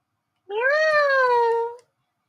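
A single drawn-out cat meow from a robot toy pet's speaker, rising then slowly falling, lasting over a second, close and clear with nothing else around it.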